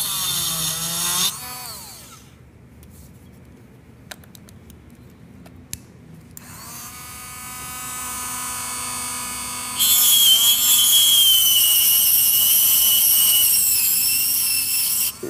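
High-pitched whining of a small rotary tool milling, grinding and drilling silver in a goldsmith's workshop, in several bursts, with a quieter pause in the middle and a louder sustained whir at the end.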